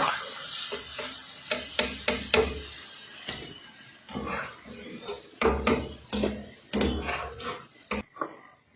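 Raisins fry and puff up in ghee, a light sizzle under repeated clinks and scrapes of a spoon against the pan, uneven and close, with quiet stretches between bursts.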